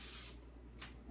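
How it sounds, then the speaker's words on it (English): Cooking spray hisses onto a cupcake pan in two bursts, a long steady spray followed by a shorter one after a brief pause, close and fairly quiet. "Just spray your pan"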